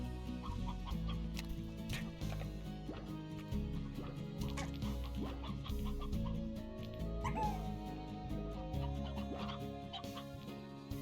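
Chickens cluck and a rooster calls in the video game Slime Rancher, the bird sounds set against steady game music that runs throughout.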